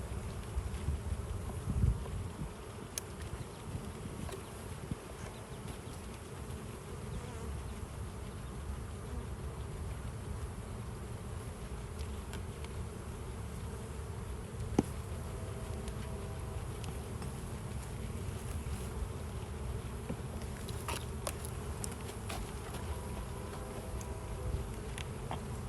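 Honeybees hum and buzz steadily around an open hive during an inspection, a dense continuous drone with a few louder bees passing close, and faint wind noise underneath.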